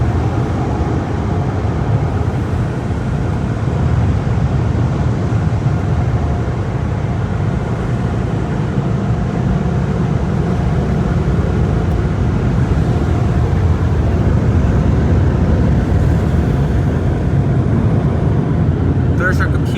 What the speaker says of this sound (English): Now we're getting the dryers.